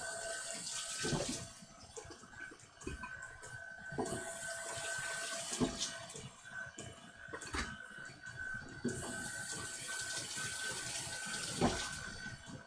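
Running tap water splashes steadily over six oranges being washed at a kitchen sink, a continuous rushing stream with intermittent louder splashes and clunks as the fruit is handled, with no talking.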